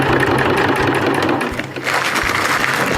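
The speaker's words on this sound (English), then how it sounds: "you sew all the way around" A sewing machine stitches a Dyneema stuff sack in a steady, close mechanical run, briefly easing off midway before resuming at full pace.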